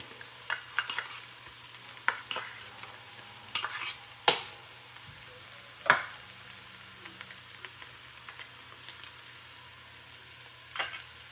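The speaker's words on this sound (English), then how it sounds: "this is just to fry it a little bit, to stir fry it a little bit for the bitterness of the tomato paste to go off" Tomato paste being stir-fried with onion in a pan for a chicken stew, giving a soft steady sizzle under scattered sharp scrapes and taps of a spoon against the pan, with no talking.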